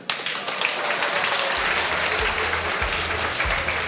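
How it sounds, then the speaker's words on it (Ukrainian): A meetup audience at the Ukraine Super Meetup breaks into loud, dense applause, a continuous wash of many hands clapping with low rumbling thumps underneath, filling the whole stretch. "будь ласка, оплески"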